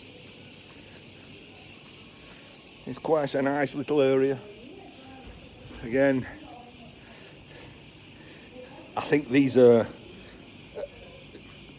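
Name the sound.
crickets chirping outdoors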